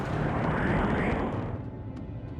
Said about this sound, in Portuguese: Essa explosão pareceu uma explosão sônica.